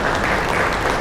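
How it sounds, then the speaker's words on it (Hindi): Audience applause at a school welcome event, a brief burst of many hands clapping together, loud and even from start to finish. "उसके लिए हम उनके लिए भी ताली बजाएंगे।"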